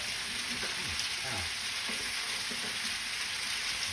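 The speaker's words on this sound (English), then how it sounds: "You basically just want everything kind of coated in oil. You want to start that initial fry." Potatoes, onions and garlic fry in oil on high heat, giving a steady close hiss and crackle throughout with some faint stirring underneath.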